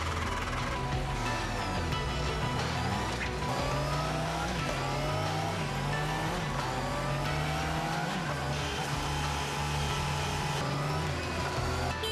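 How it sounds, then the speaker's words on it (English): A Honda motorcycle engine runs on a final inspection test platform, giving a loud, continuous drone with pitch changes as it revs up and down. "each finished motorcycle is fired up for the first time and ridden onto a special test platform."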